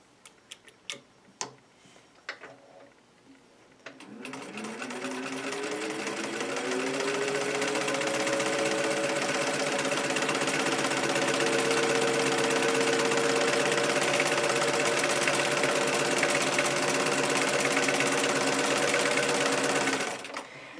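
A Singer 15-91 sewing machine starts after a few clicks and runs up to a steady, fast mechanical whir with rhythmic ticking, holding an even pace close by for about fifteen seconds before stopping.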